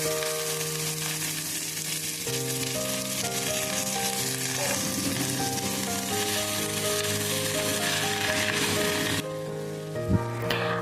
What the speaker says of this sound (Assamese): সেইখিনিও এতিয়া মই আলুৰ সৈতে ভালকৈ ভাজি ল'ম।